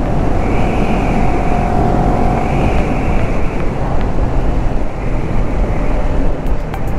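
A 2019 CF Moto 400 NK motorcycle overtaking on the road, its engine droning steadily under heavy wind rush that stays loud and constant throughout.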